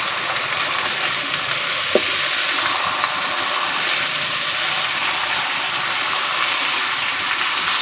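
Chicken cooked with chili paste fries in a pan as it is stirred, a loud, continuous close sizzle with hissing steam and one brief knock of the spoon, no speech.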